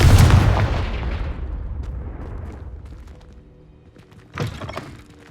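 A Confringo blast spell in Hogwarts Legacy lets off a loud, close booming explosion that rolls off into a long rumbling decay, and a second sharper impact follows near the end.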